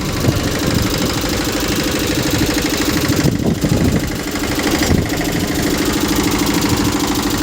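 A mini tractor with a rotavator tills soil six finger-widths deep, its loud engine knocking and vibrating in a constant rough chug, close and dominant with no voices.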